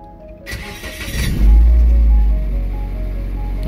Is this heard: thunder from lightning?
no